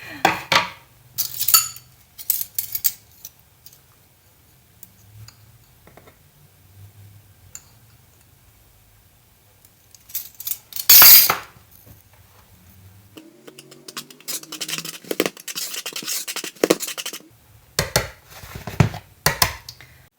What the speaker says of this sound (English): First, mix the flour and the salt.